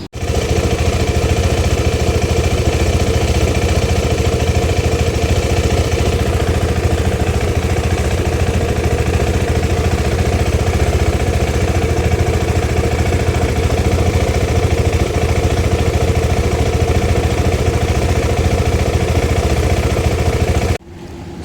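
A KTM 390 Adventure motorcycle engine idles steadily and loudly close by for about twenty seconds, a constant low rumble that cuts off abruptly near the end.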